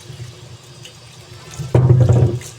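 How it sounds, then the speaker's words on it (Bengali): Tap water splashes as vegetables and green chillies are washed, a sudden close gush starting partway through after a quiet start with faint background noise. "এগুলো একটু ধুয়ে নিচ্ছি ভালো জল দিয়ে"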